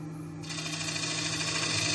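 Bowl gouge cutting side grain on a 14-inch bowl blank spinning on a lathe, a steady humming drone with a rough scraping rasp that comes in after a brief moment and continues evenly.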